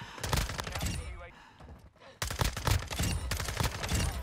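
Rapid automatic gunfire from an FSS Hurricane in Call of Duty: Modern Warfare II, dense bursts of loud, close shots that drop out briefly midway before resuming hard and continuous, with excited talk mixed in.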